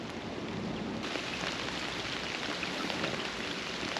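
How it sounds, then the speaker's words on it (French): Winter rain falls steadily during a black bass fishing outing, a dense, even hiss of drops hitting surfaces with no pauses, moderately faint and continuous throughout. "il commence à bien pleuvoir"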